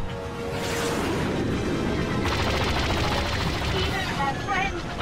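Rapid starfighter blaster fire from a Star Wars Battlefront II space battle, loud continuous bursts layered over engine roar, with voices speaking over the barrage.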